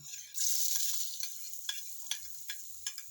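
Garlic and onion sizzle in hot oil in a home pan, a steady soft hiss broken by faint ticks and stirring clicks, quiet and close, with no talking.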